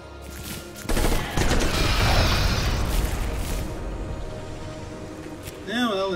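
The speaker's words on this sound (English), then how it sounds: "they're shooting at the aliens." Rapid gunfire and bursts of shooting as units attack aliens in the strategy game Beyond Earth, a dense sustained volley lasting several seconds, with a short tonal game sound near the end.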